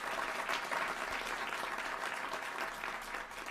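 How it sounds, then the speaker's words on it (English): Steady applause from an audience at a Louisville kickoff event, a continuous wash of clapping that runs the whole time at an even level, with no voices standing out. "let's give her a round of applause real quick."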